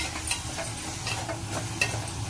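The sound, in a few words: stirring onions with salt in a covered pan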